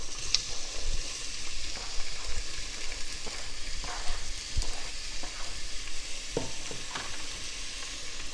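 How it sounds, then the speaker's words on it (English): Chopped onions sizzle and crackle steadily in a hot frying pan for chicken curry, a dense hiss close to the microphone with occasional stirring scrapes. "Then I'm going to put the 3 medium cut onions into the pan. You can already hear that sizzling."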